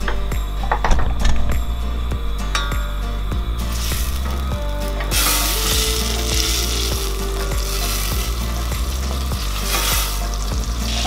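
Green cardamom seeds and pods frying in hot butter, a loud steady sizzle with repeated scraping and stirring taps against the pan, the hiss swelling brighter partway through.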